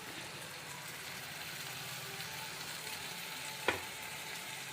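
Tamarind juice is poured into a pumpkin stew in a pan, giving a steady, close sizzle and frying hiss throughout with one brief sharp clink near the end; no talking.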